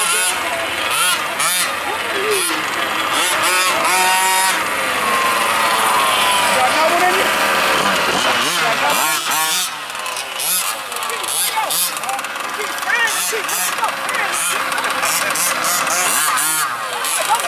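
A gas-powered HPI Baja 5SC RC car engine running loud and close with rapid revving bursts, mixed with other RC engines and overlapping voices throughout.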